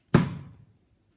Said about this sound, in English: we're gonna be doing the water bottle flip challenge